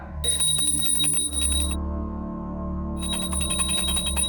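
A small prayer bell rings during worship with a bright, sustained metallic tone, stopping for a moment and then ringing again. There is no talking.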